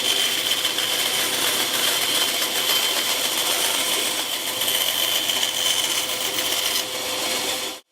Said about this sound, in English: I think I can just cut this big shape out here on the bandsaw.